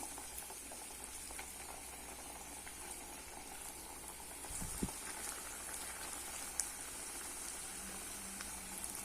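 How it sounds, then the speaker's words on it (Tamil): Keerai bonda, tea-shop style spinach fritters, fry in hot oil with a steady, faint sizzle and a few soft pops and crackles, heard alone with no talk. "இப்போ ஆயிலில் பொரிச்சிக்கலாம்"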